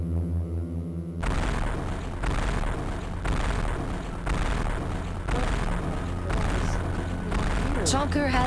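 Super missiles firing in Metroid Prime 4, a run of heavy booming blasts in regular bursts with rumbling impacts and a rising whine near the end, loud and close under a player talking.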